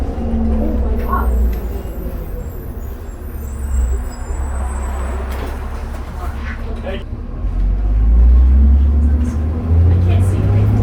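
From inside a Calgary Transit 2003 New Flyer D40LF bus under way, the diesel engine rumbles deep and close, rising louder near the end, with a brief air-brake hiss and people talking over the drone.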